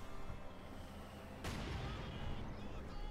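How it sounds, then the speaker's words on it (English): A single mortar shell lands with a sudden sharp impact in Company of Heroes 2, a brief crack followed by a low rumbling tail beneath the ongoing battle noise. "Quick mortar hit there."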